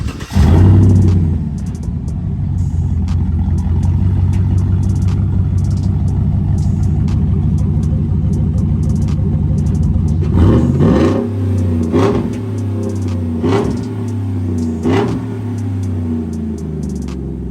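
V8 pickup truck engine with short tube headers, idling with a deep rumbling burble and then revving in several sharp blips toward the end, loud and close, with no talking.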